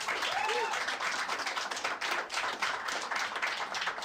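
Dense, continuous applause and clapping from a crowd, steady and fairly loud across the whole stretch with no voices over it.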